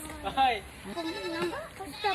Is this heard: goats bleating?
yes